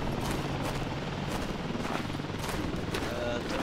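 Gunfire in the Arma 2 combat game on the Zargabad insurgency map, a dense, continuous rattle of shots that stays loud and unbroken throughout, with faint voices underneath.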